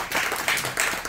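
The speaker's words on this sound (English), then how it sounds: "a ton of applause and appreciation for Elsa May from Snowflake to thank you." Audience applause fills a conference welcome session, a dense wash of many hands clapping at steady loudness throughout, with no voices standing out.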